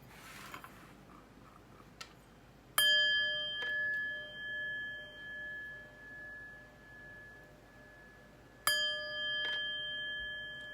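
Chimes ring out twice, each strike a bright metallic tone that hangs and slowly fades with a gentle pulsing shimmer, set against a quiet background.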